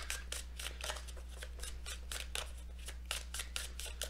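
Tarot cards riffled and shuffled by hand during a weekend love reading, a rapid run of crisp papery flicks and snaps repeating steadily and close, over a low steady hum.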